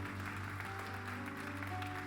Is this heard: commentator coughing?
no